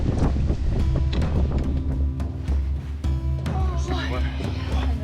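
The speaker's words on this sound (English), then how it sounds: "It is literally the windiest day in the world today." Strong wind in the Lake District buffets the microphone with a constant low roar while people talk close by.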